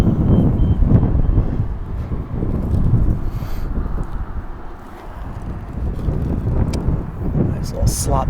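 Gusty wind buffets the microphone during a trad rock climb, rising and falling in broad low roaring waves with a lull midway, alongside faint scraping movement.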